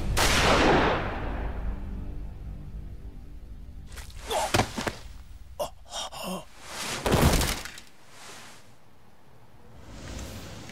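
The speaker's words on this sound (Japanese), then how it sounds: "銃声がしたから駆けつけたのよ" Loud, sharp gunshots in the video game Yakuza Kiwami 2 ring out in a burst of several blasts separated by pauses, with booming impacts and a lingering rumble.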